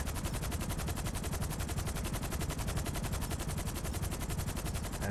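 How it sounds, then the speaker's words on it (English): Combat MG machine gun fire in Grand Theft Auto V, one unbroken rapid burst of loud shots that fills the whole stretch with no pause. "Got my gun out. I've got the combat MG."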